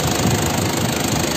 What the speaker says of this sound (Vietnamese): Em quay tiếng động cơ đang hoạt động